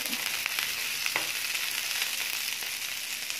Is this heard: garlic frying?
yes